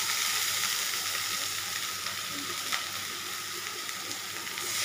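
Tomatoes hit hot oil in a pan alongside ground cumin, coriander, ginger and chili paste, giving off a loud, steady, close-up sizzle and frying hiss while lentil dumplings are cooked, with no talking.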